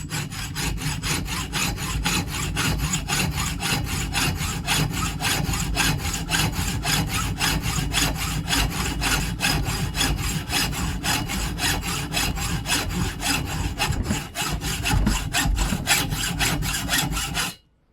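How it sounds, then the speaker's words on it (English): A hacksaw cuts steadily through a microwave magnetron in fast, even back-and-forth strokes, loud and close. The rasping grind runs without a break for about seventeen seconds and then stops abruptly. "in case you don't have one of those, you can just use a hacksaw"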